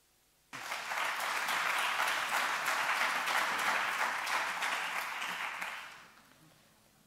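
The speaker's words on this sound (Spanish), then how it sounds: "Un aplauso." Audience at an accounting and economics talk in Bilbao breaking into sudden, full applause that stays steady and dense for several seconds, then fades gradually to quiet.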